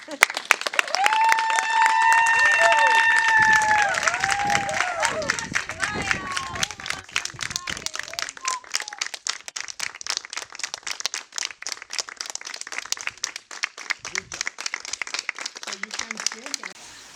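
At a Hindu upanayana ceremony, applause from an audience rises quickly, holds strong for several seconds, then thins into scattered claps over a soft murmur of voices.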